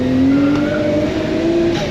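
A GTST car spins its wheels, with a loud, steady engine drone and a high tire whine held near and constant for a couple of seconds.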